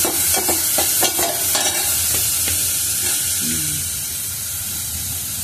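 Onions frying in oil in a pan, a loud close sizzle with brisk rhythmic stirring scrapes early on that ease off, leaving a steadier, quieter hiss; nobody talks.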